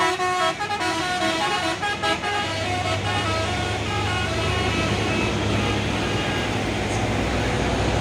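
A heavy trailer truck rumbles past on a road with a steady low engine drone, surrounded by busy traffic noise and a brief horn toot.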